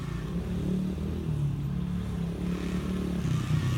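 Dirt bike engine droning steadily as the rider whips through turns on a maze-like track, a continuous moderately loud motor buzz with slight rises in revs, heard at some distance without talk.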